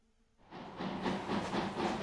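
Goods trains in the OpenTTD railway game set off with a burst of hissing, clattering rail noise after a brief quiet start, steady and fairly loud to the end.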